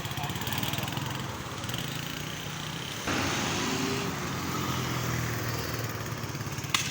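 A Honda CD 70 motorcycle converted to run without a clutch idles and runs in gear, a steady buzzing engine drone that shifts slightly in pitch partway through, heard fairly close.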